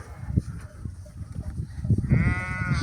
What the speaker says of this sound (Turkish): Bakın kuzularımız da güzel oynuyor